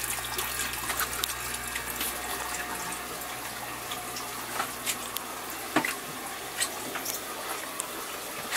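Water runs steadily from a faucet during a fish tank water change in a home fishroom, a continuous hiss with a few small splashes and clicks throughout.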